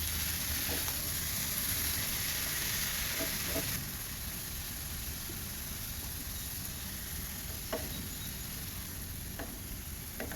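Chopped celery, spring onion and fresh tomato sizzle steadily in a frying pan, a soft continuous hiss with a few faint clicks of stirring, no voices.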